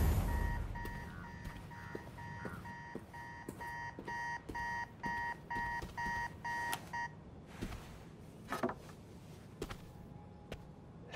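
An alarm clock rings in Marvel's Spider-Man 2 video game, a run of evenly spaced electronic beep bursts that stops partway, followed by quieter footsteps and scattered knocks.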